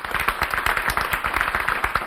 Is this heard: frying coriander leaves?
no